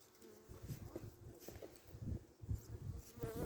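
Honeybees buzzing close around a hive in winter, a faint, continuous droning hum with brief louder passes of single bees, no talk.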